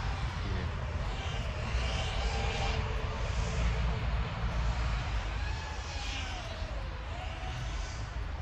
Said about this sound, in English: That's how quiet a Kayoumini is